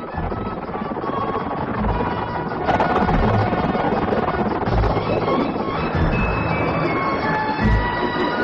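A train engine running at full speed in an animated film, a steady loud rumbling roar of wheels and machinery with rail squeals that rises partway through and runs throughout.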